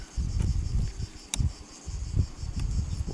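A honeybee colony buzzes continuously at close range, a dense, fluctuating drone of many wings, with a few faint ticks and rustles over it.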